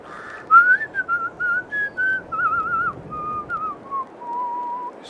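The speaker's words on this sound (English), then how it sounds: "Just whistle while you work." A person whistles a tune while working on a farm in Farming Simulator 22, a clear melody of short sustained notes with brief gaps, close and alone over faint game background.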